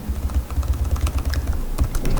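Rapid keystrokes on a computer keyboard, a steady patter of clicks at close range over a low background hum.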